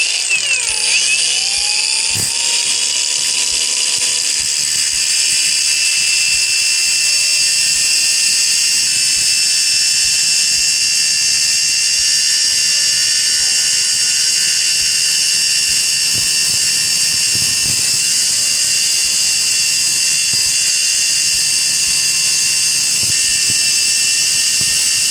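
A Lucid LY-850 brushless angle grinder, set to a low speed, cuts through a steel L6 hex key, giving a loud, steady high-pitched whine that runs continuously with no talking.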